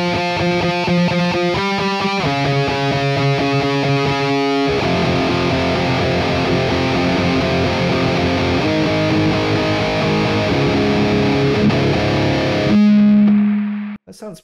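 Heavily overdriven electric guitar through a Quad Cortex, chugging palm-muted chords and sustained distorted notes played loud and close for about fourteen seconds, ending on a held chord that cuts off.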